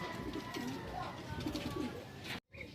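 Racing pigeons coo softly in a loft in Rosario, La Union, low repeated murmuring calls over steady background noise, with a brief dropout near the end.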